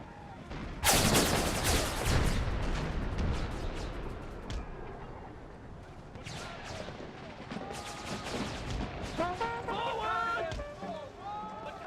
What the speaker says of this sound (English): And my howitzers are just pounding that unit of infantry just outside of town.